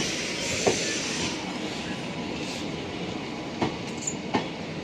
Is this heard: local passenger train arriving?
yes